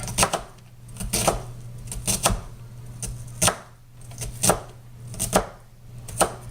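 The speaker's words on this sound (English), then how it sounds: "for now we're just going to chop it up like normal" A knife chops an onion on a cutting board for sweet sloppy joes, close and crisp, in quick irregular bursts of sharp strikes separated by brief pauses, with no talking.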